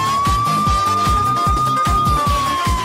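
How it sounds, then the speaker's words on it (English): A police siren in a Roblox game wails steadily over a pounding, rhythmic beat of loud electronic music. "I'm starting to hear the sirens."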